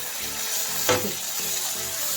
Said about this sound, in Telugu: ఈ ఉల్లిపాయలు వేగిన తర్వాత ఇప్పుడు టొమాటోలు వేసుకుందాం